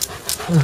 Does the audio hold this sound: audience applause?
no